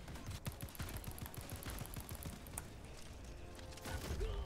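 Video game combat played at ultra settings, with rapid bursts of automatic gunfire and explosions crackling in a dense, continuous wash, loud and busy throughout with no voices.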